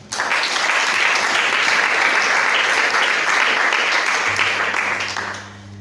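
An audience at a public debate on mpox in the Democratic Republic of the Congo breaks into loud, steady, sustained applause that tapers off at the end under a low hum.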